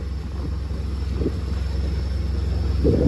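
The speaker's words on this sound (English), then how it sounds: "You can see how much wind we got here." Strong wind buffets the microphone on a sailboat at sea near Langkawi, a steady loud rushing roar with a low engine drone running underneath for the whole stretch.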